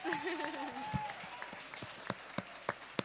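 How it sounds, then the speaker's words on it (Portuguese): A church congregation applauds during a service: a voice speaks briefly at the start, then a steady wash of clapping fills the room, with sharp individual claps popping out at irregular intervals over the crowd noise. "Vamos aplaudir o Senhor pela vida dele?"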